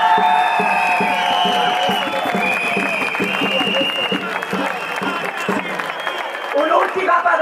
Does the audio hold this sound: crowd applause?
yes